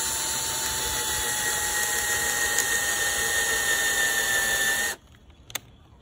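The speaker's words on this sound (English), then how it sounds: "you'll drill all the way down until it meets this collar" A power drill bores a pocket hole through a wooden board in a Kreg jig, a steady high motor whine running about five seconds before cutting off, followed by a faint click.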